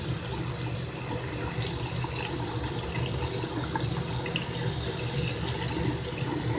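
Steady running water from a tap rinses an eye makeup brush at a sink, a continuous even splashing stream with no voices.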